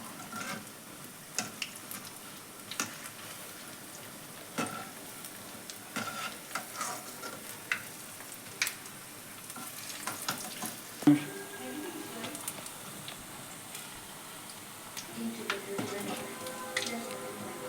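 Minapa garelu, urad dal vadas, frying in oil and being turned until golden brown, a quiet steady bubbling sizzle broken by scattered clicks and light scrapes of a utensil.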